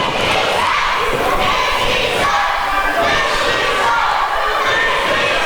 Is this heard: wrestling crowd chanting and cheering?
yes